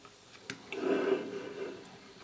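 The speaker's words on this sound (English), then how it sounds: "let us crack open the can." A can of Dr Pepper Strawberries & Cream cracks open with a short sharp click followed by a soft, fading hiss of fizz, close and fairly quiet.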